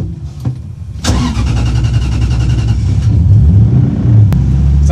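A V8-swapped Nissan 240SX cranks and fires up close by, then settles into a loud, steady, rumbling idle with slight rev changes.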